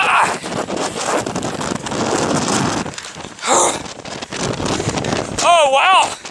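Strong 40-knot storm gusts roar and buffet the microphone almost continuously, with shouting voices over the wind and a brief whistling tone near the end.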